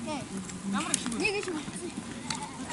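Sheep and goats bleat repeatedly at a fence in the Gobi Desert as a herder sorts them, the cries overlapping at close to middle distance against a steady background of shuffling and commotion.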